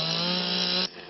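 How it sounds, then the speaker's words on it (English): Chainsaw carving a wood sculpture at a chainsaw sculpting festival, a loud steady engine whine that cuts off abruptly near the end. "It's fast, vigorous, chainsaw sculpting, and they'll see terrific art."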